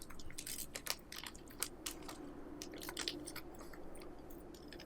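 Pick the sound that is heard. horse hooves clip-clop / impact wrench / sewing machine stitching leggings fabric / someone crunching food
someone crunching food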